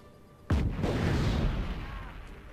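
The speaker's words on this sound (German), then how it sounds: "So, ich werfe eine Granate hinten rüber." A grenade blows up in Just Cause 3 with one sudden loud boom, followed by a long rumbling roar of debris that slowly fades away.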